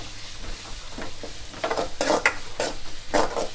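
Garlic sautés in a pan for a South Indian lentil-ball curry, giving a soft sizzle broken by louder bursts of stirring and utensil scrapes against the pan, close up with no speech.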